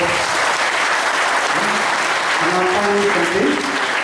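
A crowd at a teen meditation session claps loudly and continuously in a dense, even roar of applause, with a few voices rising faintly underneath near the end.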